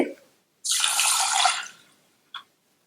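Water pouring and sloshing as half a cup of moong dal is rinsed inside a pressure cooker, one steady burst of about a second followed by a short splash, close and clear.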